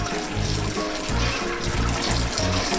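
A continuous spray of cold tap water onto spinach runs steadily throughout, a dense hissing rush with a faint rhythmic pulsing underneath.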